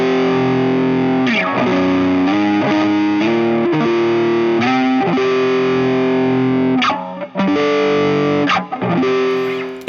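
Electric guitar run through a Victory Sheriff British crunch pedal with overdrive stacked on top, playing loud distorted chords and riffs with sustained ringing notes and brief pauses, alone without talk.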